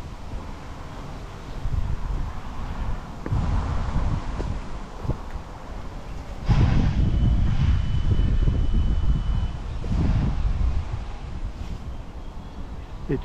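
Wind gusting around a 14-metre tree trunk stripped of branches, ready to be cut at the top of a driveway: a steady broadband rush and rumble that swells into louder gusts midway, with no talk.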